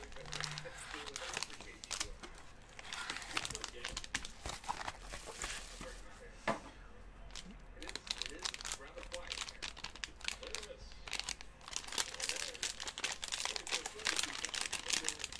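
Crinkling and tearing of gold foil packaging on a Gold Rush football card pack, close, irregular rustling and crackling throughout, with a voice talking over it at times.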